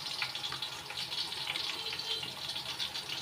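Tap water running steadily into a kitchen sink while washing, a close, even gushing hiss that continues without pause.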